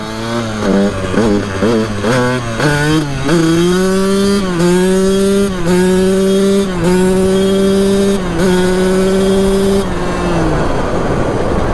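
Loud, close dirt bike engine on a road, revving up through a series of gear shifts with rising whines and brief dips between, then easing off at the end.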